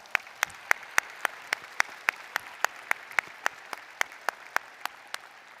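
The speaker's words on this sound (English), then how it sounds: "I think we should give him a round of applause." Audience applause at a university commencement ceremony for doctoral, MFA and medical degree candidates, after a performance of the national anthem: a steady run of sharp, evenly spaced claps, fairly faint and distant, with no talking.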